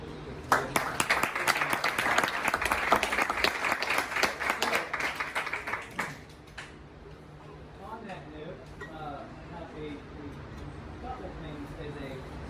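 Applause from a crowd at a sports medicine fellowship banquet, steady clapping for about six seconds that fades out, followed by a quiet room with faint voices.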